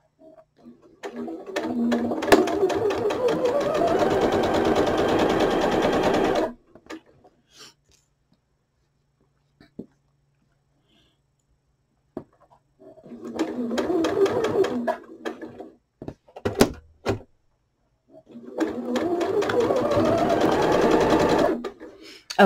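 Sewing machine stitching pinned fabric pieces in three loud, close bursts of rapid mechanical clatter, separated by pauses with scattered small clicks and handling noises.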